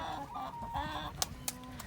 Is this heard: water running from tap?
no